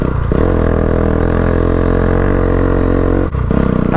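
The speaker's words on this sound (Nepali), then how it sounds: "तान्छ हौ मेरो बाइकले नि पावर चाहिन्छ यार" A motorcycle engine labours uphill on a mountain road on the Rara–Jumla route in Nepal, holding a strong, steady drone close by, with a brief dip before it picks back up.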